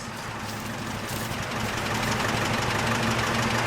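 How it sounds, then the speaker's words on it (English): A 1948 Chevrolet Loadmaster 2-ton truck's 235 cubic inch straight-six idles steadily nearby, its low knocking rumble constant and loud with a hissing wash over the top, no voices present. "The engine needs to be running, which it is"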